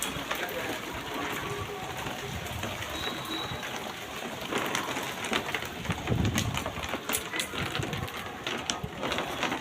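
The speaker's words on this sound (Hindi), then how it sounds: "देखो लुधियाना में कितनी ज़ोर बारिश हो रही है।" Heavy rain pours steadily in Ludhiana with wind blowing, a dense continuous hiss throughout, with pigeons cooing faintly in the background.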